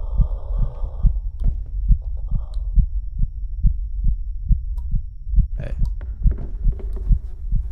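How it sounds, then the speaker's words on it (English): Steady, fairly loud heartbeat thumps in a regular rhythm from the horror video game 9 Child's Street, with faint scattered clicks and background noise around it. "I hear my heartbeat. I hear a heartbeat."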